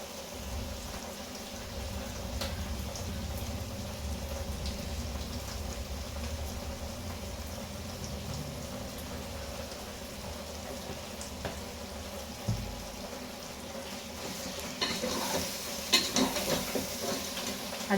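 Chicken masala ingredients sauté in ghee with a continuous low sizzle and bubbling. Occasional stirring clatter grows near the end, and no one speaks.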